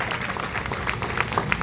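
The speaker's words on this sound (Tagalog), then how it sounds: "Para malungkot naman yung palakpak na yan." Applause from the audience at a church conference in the Philippines, a steady wash of many hands clapping with a few sharper individual claps, moderately loud and continuous throughout.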